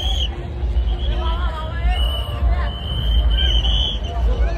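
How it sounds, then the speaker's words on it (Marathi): Dense crowd hubbub under a bridge at the Chinchpokli Chintamani Ganpati arrival procession, a steady wash of many voices with scattered whistles and shouts, loud and continuous, with someone talking close by. "ब्रिजच्या खाली किती गर्दी आहे बघा।"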